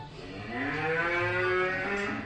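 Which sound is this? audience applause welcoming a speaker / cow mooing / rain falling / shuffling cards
cow mooing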